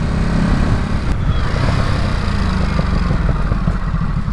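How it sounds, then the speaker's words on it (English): A Ducati Supersport 950 S motorcycle exhaust, a loud, close, steady low engine rumble with faint crackling pops scattered through it. "I love that popping of the exhaust."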